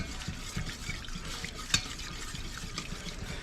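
Milk is stirred into a flour roux in a pan for potato soup, a close, soft wet swishing and scraping with rhythmic strokes, a light sizzle, and one sharp clink of the spoon against the pan.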